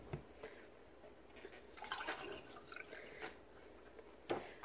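Liquid fabric dye is poured back into a container during hand-dyeing of cross stitch fabric, making faint trickling and dripping sounds with a few small splashes, quiet and close, with no talk.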